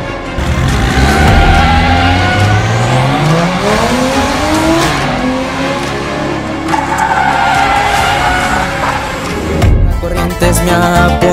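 Car engine revving loudly with rising and falling pitch sweeps, mixed with squealing, skidding tires, close and continuous for several seconds, ending in a sharp burst of noise.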